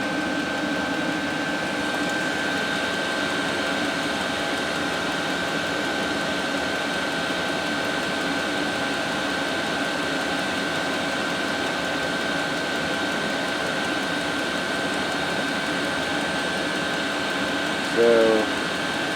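An 8 kW Chinese diesel heater runs steadily, its fan blowing hot air with a constant, even whoosh and a faint hum, close by and unbroken, with one short click near the end.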